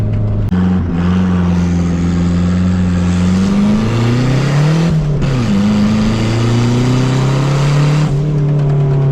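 A cheap turbocharged Nissan 240SX drift car drives past close up, its engine a loud, continuous drone rising and falling in pitch as it revs, with a brief dip in the middle.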